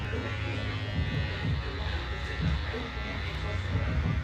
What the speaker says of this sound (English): When I'm using this foil shaver, I'm just passing it over the skin.